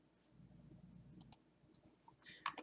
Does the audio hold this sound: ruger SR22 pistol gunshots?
no